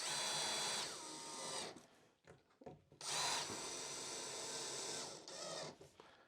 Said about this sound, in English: I'm going to tighten these the rest of the way with a screwdriver.